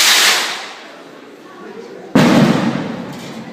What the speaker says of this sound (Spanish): se truenan varios cohetes como símbolo de la terminación del